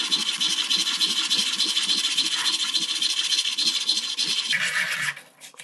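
Steady scratchy rasping of sandpaper rubbing against the metal edge of a domed locket, continuous and close, fading out at the end.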